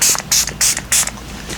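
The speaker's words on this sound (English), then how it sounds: "This is the Milani Make It Last spray." A Milani Make It Last setting spray fires four quick, close hissing bursts in an even rhythm, each a short puff of mist, followed by a fainter fifth spritz, with no talking.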